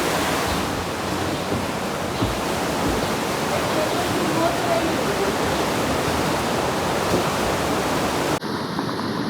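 Fast river current swollen by heavy rain rushes loudly and steadily beneath a bridge in Switzerland, a broad continuous roar of churning water that fills the whole stretch before cutting off abruptly near the end.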